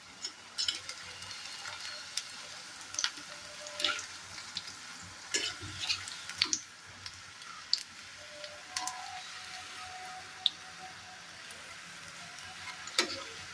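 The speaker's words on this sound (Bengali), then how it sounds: "দেখো আমি এখানে কিন্তু ভাজতে দিয়ে দিয়েছি" Fritters fry three at a time in a small wok of oil, giving a soft continuous sizzle broken by irregular clicks and scrapes of stirring, with no voices.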